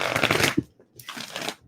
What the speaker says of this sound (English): Let me get a good shuffle for Pisces.